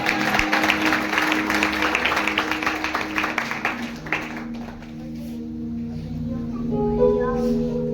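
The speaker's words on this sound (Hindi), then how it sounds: "ताली बजाकर परमेश्वर को धन्यवाद करें।" A church congregation claps in thanks to God, dense applause for about four seconds that then fades out, leaving a sustained musical drone and faint voices.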